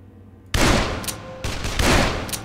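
Loud revolver shots from the Dead Island video game. Two or three heavy blasts follow in quick succession, each with a long decaying boom.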